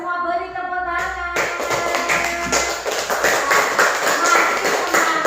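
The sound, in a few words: children clapping hands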